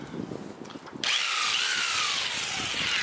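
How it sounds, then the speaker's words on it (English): A power drill starts suddenly and bores into the metal roof of a mid-length Ford Transit van for a fan install, running loud and steady after a brief quieter lead-in. "I'm gonna take drill bit here, blow some holes in the corner"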